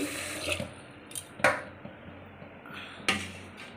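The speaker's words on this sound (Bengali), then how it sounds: "ভাত বসাবো তাই জল নিয়ে নিচ্ছি" Water is drawn from a kitchen tap for cooking rice, with splashing and a few sharp knocks of a vessel against the sink, heard close and irregular, with no speech.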